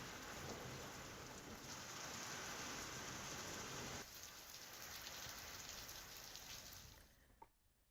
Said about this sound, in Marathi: सोलापुरात ढगांच्या गडगडाटासह पावसाने हजेरी लावली आहे